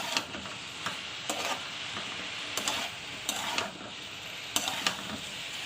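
Thankuni (Indian pennywort) leaves sautéing in a pan, a soft continuous sizzle broken by sharp periodic scraping strokes of a spatula stirring.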